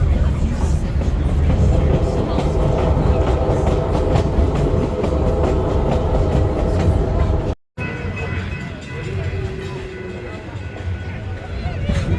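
A passenger train on a Grand Canyon trip rolls along its track with a loud, continuous rumble and rhythmic clatter. People talk in the background, and the sound cuts out briefly partway through.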